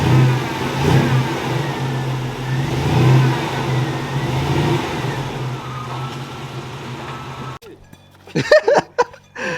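Cammed Chevrolet Sierra truck engine revving loudly up close with a choppy, lumpy idle between pulls, then cutting off abruptly near the end as brief talk follows.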